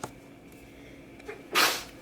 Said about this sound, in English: my son just sneezed